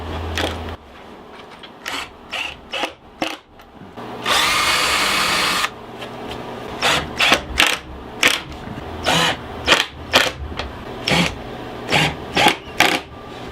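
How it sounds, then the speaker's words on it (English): A power drill runs in short bursts, pre-drilling holes and driving screws into a reclaimed wooden crate being built into a toybox. One longer whirring run is followed by many quick, repeated trigger pulses, all close and clear. "I'll pre-drill and countersink and screw them in."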